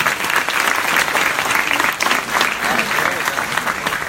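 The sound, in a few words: audience applause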